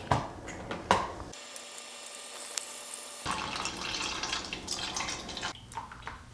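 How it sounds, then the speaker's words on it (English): Homemade almond milk poured through a strainer into a container, with close dripping and a steady trickle of liquid, a few louder splashes at the start and a quieter patch midway. "Strainer goes over here, and I'm gonna pour into this."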